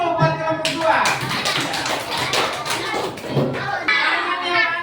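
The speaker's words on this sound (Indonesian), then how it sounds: "Tepuk tangan dulu buat kelompok 2" Primary school children in a classroom clap for a group, a loud, close, uneven patter of many small hands with bursts and pauses, under children's chatter.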